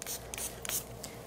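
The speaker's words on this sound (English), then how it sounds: "All you have to do is apply a couple sprays" A few short hisses of Bark Art sealer spray applied to a pet's stenciled fur design, quiet bursts with brief gaps between them.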